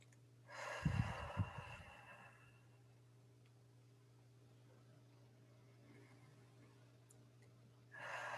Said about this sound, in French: on va commencer par prendre de grandes respirations